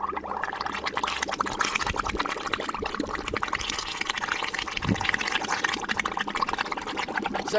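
A small underwater fountain churns in a tank of water, giving off a continuous bubbling, gushing wash that stays even and fairly loud.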